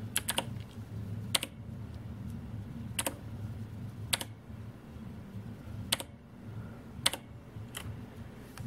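Keys tapped on a backlit computer keyboard in a home basement setup, a steady run of soft clicks with sharper louder keystrokes standing out every second or so, close and alone with no voices.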